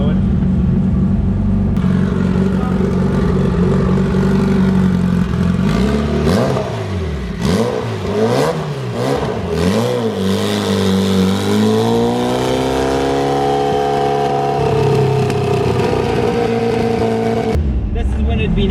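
A car engine on a dyno roars up through repeated rising and falling revs, then climbs in a long sustained pull before cutting back, loud and close throughout.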